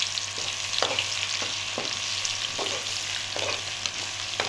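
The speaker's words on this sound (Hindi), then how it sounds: "तो अब हम इसी ऑयल में प्याज ऐड कर देंगे।" Three medium onions, finely chopped, fry in oil with a constant crackling sizzle, punctuated by several sharp scrapes of a stirring spoon against the pan, close and without speech.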